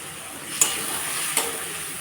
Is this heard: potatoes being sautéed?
yes